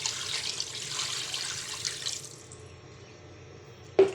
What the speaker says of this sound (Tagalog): So lalagyan ko na siya ng tubig guys.